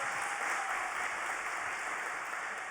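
An audience at a French award ceremony for the Ordre National du Mérite applauds to vote for the first proposal, giving a steady, soft wash of clapping that stays level throughout.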